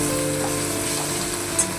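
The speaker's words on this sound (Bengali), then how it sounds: "ভালোভাবে নাড়াচাড়া করে পেঁয়াজটা টমেটো ভেজে নেব" Onion and tomato fry in a pan, giving a steady, even sizzle up close with no pauses.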